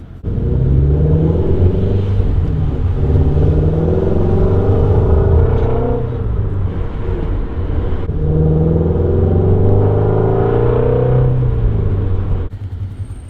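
Shelby GT350 V8 exhaust revs repeatedly in loud, close blips, with rising and falling engine swells over a steady deep rumble and no talking.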